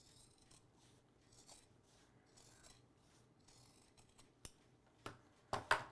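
Scissors snip along the stitched seam allowances of a sewn fabric portable gaming console case, with quiet rubbing early on and a few sharper cuts growing louder near the end.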